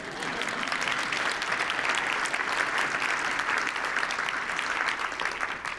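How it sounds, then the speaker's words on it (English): An audience at a talk event bursts into sustained applause, dense even clapping that carries steadily for several seconds with no break. "You can clap for that."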